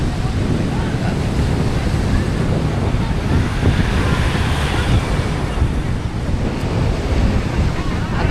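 Sea waves and surf wash steadily beside a boat near fish cages, mixed with strong wind buffeting the microphone, a loud continuous rush throughout.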